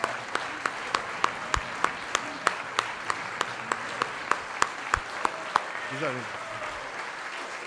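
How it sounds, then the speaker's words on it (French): An audience at the Dîner des Patriotes 2018 tribute dinner applauds honourees with loud, sustained clapping that falls into a steady rhythmic beat, and a voice speaks briefly over it. "levons-nous pour les acclamer."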